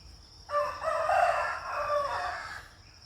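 A rooster crows once, a single drawn-out cock-a-doodle-doo from a short distance, over a quiet background hum.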